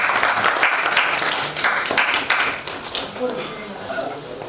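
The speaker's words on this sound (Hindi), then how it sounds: "जोरदार तालियों के साथ स्वागत कीजिए।" Audience clapping in welcome as the chief guest lights a ceremonial lamp at a Culture Ministry event, fairly loud hand claps at first that thin out and fade as background voices take over.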